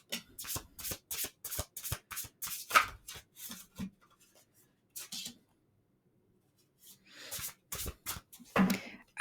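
Divine abundance oracle cards are shuffled by hand in quick, crisp riffles. A quiet pause falls in the middle before the shuffling resumes, and there are faint soft murmurs.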